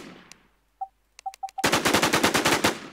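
In the Infestation shooter game, a few single shots sound with gaps between them. A rapid burst of loud automatic gunfire follows at close range.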